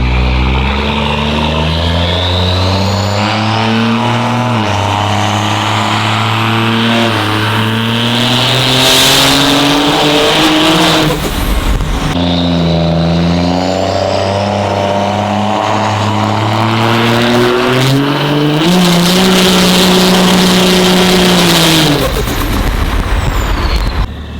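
A 1200-horsepower 3G street truck engine roars through loud, sustained dyno pulls, revving up and down in long sweeps with a brief dip midway before climbing again, with no talking over it.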